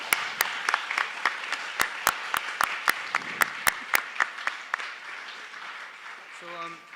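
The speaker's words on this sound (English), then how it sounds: "So please let's give a big round of applause." At a Canada150&Me forum in Halifax, scattered sharp claps ring out from a small audience. The uneven claps fade after about four seconds into quiet room tone, and a voice comes in near the end.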